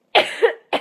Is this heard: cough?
yes